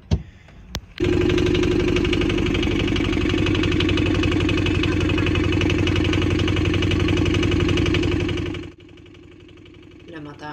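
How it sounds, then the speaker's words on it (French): A sailboat's inboard engine runs steadily with a water pump feeding its cooling intake, a loud, even mechanical drone that starts after a couple of short knocks and cuts out near the end. "Le moteur fait le bon son, c'est bon signe."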